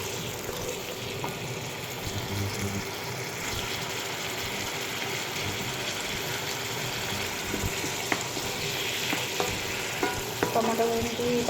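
Onions frying with chili powder in a pan, making a steady close hiss and sizzle with occasional stirring scrapes and clinks that grow busier toward the end.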